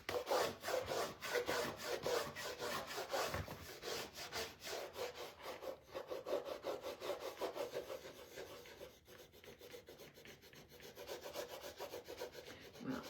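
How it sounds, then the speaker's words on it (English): A Cricut embossing tool rubbing back and forth over a craft door hanger, a close, steady scratchy scraping in quick repeated strokes that slowly fades softer toward the end. "Cricut embossing tool"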